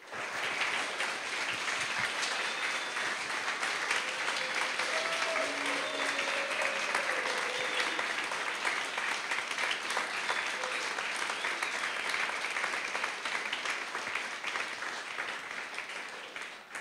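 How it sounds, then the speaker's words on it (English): Sustained applause from a conference audience after a talk, a thick, even roar of clapping lasting well over fifteen seconds with a few faint voices underneath, tapering slightly at the end. "can I start a round of applause now for Justin for the organization today?"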